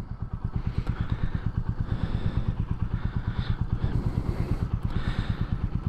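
A Royal Enfield Meteor 350 motorcycle's single-cylinder engine thumps steadily while being ridden, a close, continuous pulsing chug with slight rises in revs and wind noise, no talking.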